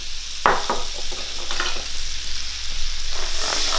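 Butter and olive oil sizzle steadily in a frying pan, a continuous close crackling hiss with a few sharper pops and scrapes, and no voices.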